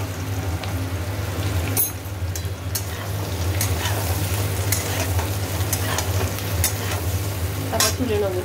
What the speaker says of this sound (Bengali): এই যে এঁচোড়গুলোকে একটু ভেজে নিচ্ছি, নুন আর একটু হলুদ দিয়ে সামান্য